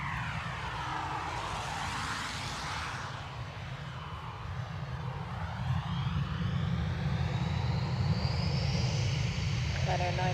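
An airliner rolls for takeoff on a Dublin Airport runway, its engines building into a broad, steady roar that grows louder and swells toward the end, with air-traffic radio voices faintly audible underneath.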